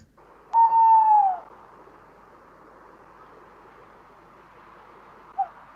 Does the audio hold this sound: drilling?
no